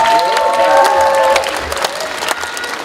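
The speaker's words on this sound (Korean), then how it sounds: "우리 이원범 체육회장님께 박수 한번 부탁드리겠습니다." Festival crowd at a community culture event in Mapo applauding and cheering loudly, a sustained wash of clapping with bright whistles or tones early on and scattered sharp claps as it continues.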